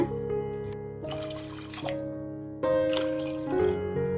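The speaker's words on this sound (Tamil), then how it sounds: "சாப்பாட்டுக்கு தேவையான அளவு தண்ணி சேர்த்திடலாங்க" Water pours and trickles into a pot of rice for green gram pulao, a steady splashing and dribbling stream with a few shifts in flow, close and alone without talk.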